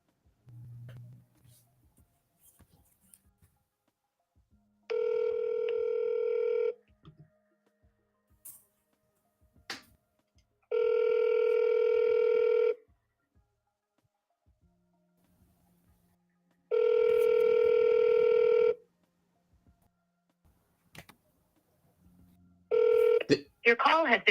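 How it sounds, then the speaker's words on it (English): An outgoing telephone call rings back in three long, evenly spaced tones with silent gaps between them, clear and alone, before a brief beep near the end. "Hang on, I'm going to call this guy."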